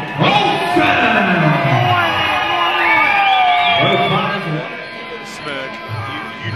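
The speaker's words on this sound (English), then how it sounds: "Ladies and gentlemen, big round of applause." A fight-night crowd at a Muay Thai tournament final cheering and whooping as a fighter is introduced, with a loud announcer's voice over the continuous crowd noise.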